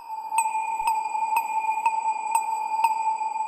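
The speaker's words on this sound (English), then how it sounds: "And then we have this bell sound." A synthesized bell strikes one steady note about twice a second, bright and ringing, repeating evenly with no voices.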